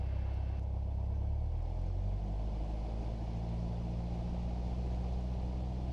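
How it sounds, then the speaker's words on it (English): A light aircraft's piston engine is run up to 1800 RPM with the brakes held, a loud steady low rumble that swells early and then holds at an even drone. "throttle to 1800 RPM, holding the brakes"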